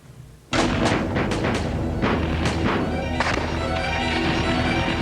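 Gunfire and artillery of street combat as a radio drama effect: a sharp onset into a dense volley of cracking shots and heavy booms, with repeated loud bursts over a continuous rumbling din and no talking.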